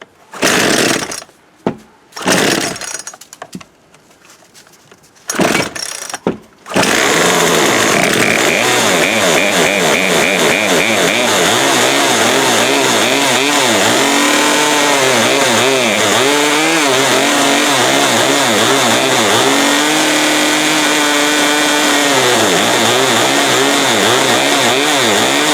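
A Poulan Pro 42cc PP4218A chainsaw, an old house saw, sputters through a few short bursts, then catches and roars loud and close, holding a steady high rev with wavering pitch and no idle.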